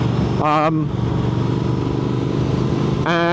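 A Triumph Speed Twin 1200 motorcycle is ridden at slow speed, its steady engine drone broken by two short rising bursts near the start and the end, with talking heard over it.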